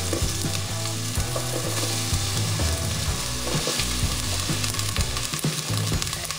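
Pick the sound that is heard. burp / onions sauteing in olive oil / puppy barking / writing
onions sauteing in olive oil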